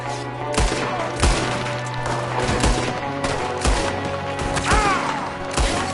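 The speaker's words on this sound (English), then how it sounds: "There's another one shooting from the window." Gunfire during an ambush in Red Dead Redemption, with repeated sharp shots cracking at irregular intervals, loud and close, one after another over a background hum.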